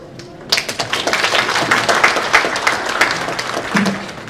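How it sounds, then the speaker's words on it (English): Sustained applause from an audience for a panel at a correctional service week event, dense steady clapping beginning abruptly and continuing loudly throughout. "Another round of applause for the panel."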